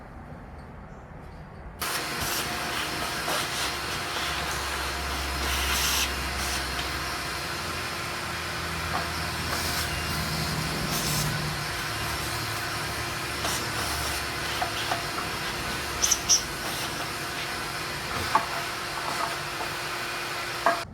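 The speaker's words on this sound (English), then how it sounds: "So we'll get that all sucked out of there with a shop vac." A shop vac cleans out the blower shroud of an old engine that sat in a barn for years. It switches on abruptly after a short quiet moment, then holds a loud, steady whooshing drone with a few faint clicks.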